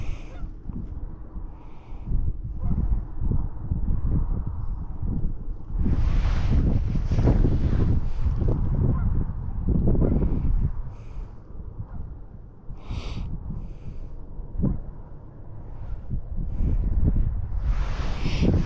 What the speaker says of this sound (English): there has been some good gusts of wind come in today